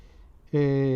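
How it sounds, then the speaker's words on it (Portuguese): A single drawn-out meow from a kitten or small cat starts abruptly midway, close and loud, after a quiet stretch. "a minha gatinha está me atrapalhando aqui"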